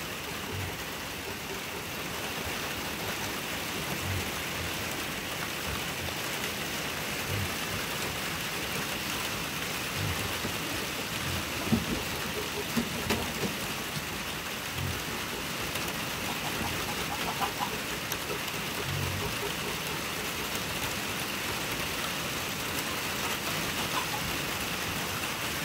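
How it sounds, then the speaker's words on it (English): Steady rain pours onto a farm garden, a dense, even hiss of drops on leaves and surfaces filling the whole stretch, with occasional louder patters and no talking. "It's raining."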